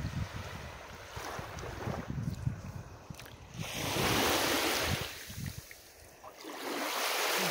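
Waves of Lake Khanka wash and lap against a sandy shore in surging swells, with gusty wind buffeting the microphone; no one speaks.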